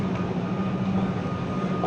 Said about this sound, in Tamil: இதுதான் இந்த ட்ரெயின் தான்.